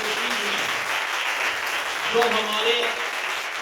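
A church congregation applauds during a pastor's sermon, a dense, steady wash of clapping filling the room while a voice speaks over it.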